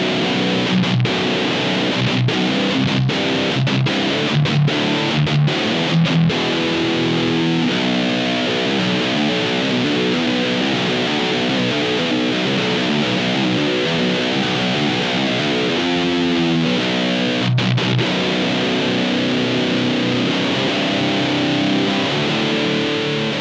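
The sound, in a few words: distorted electric guitar through amp pedal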